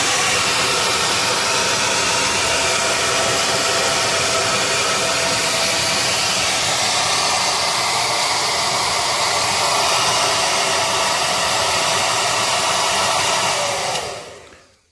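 A hair dryer runs at full blast close by, melting a thick sheet of ice in a freezer, a loud steady whooshing roar that holds for the whole stretch and then cuts off at the end, with no talking.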